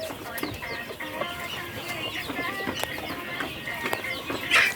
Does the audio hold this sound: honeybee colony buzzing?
no